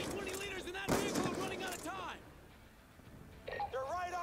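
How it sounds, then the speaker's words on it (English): Bursts of gunfire from a Call of Duty: Black Ops 2 campaign battle, sharp cracks mixed with shouted voices and radio chatter, loudest early and then fading. "We're taking heavy fire from all directions."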